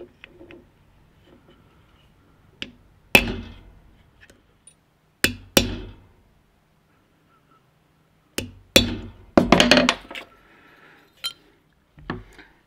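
A ball-peen hammer strikes a metal sign held against a piece of wood, giving sharp, ringing metallic hits spaced irregularly, some singly and some in a quick cluster, separated by near silence.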